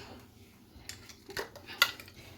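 A spoon stirs vegetables and chicken breast frying with hot red pepper in a tagine pot, giving soft scrapes and a few sharp metallic clinks, close and quiet.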